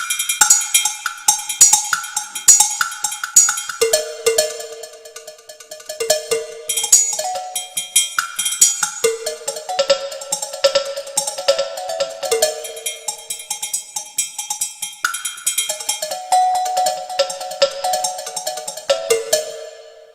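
An electronic jamKAT percussion pad is played with cowbell sounds, bright metallic clanks struck in quick rhythmic patterns that shift between pitches like a melody, loud and close for the whole stretch.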